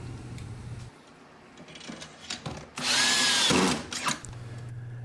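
A power drill drives deck screws into joists while a board is fastened down with a deck jig, giving a short whir and then one loud, sustained burst of drilling, with steady low machine hum before and after.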